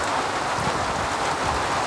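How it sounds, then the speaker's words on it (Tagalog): Heavy rain pours down steadily on chickens, a loud, dense hiss of drops drumming on a surface with no break. "Binugbog pa ng ulan mga boss."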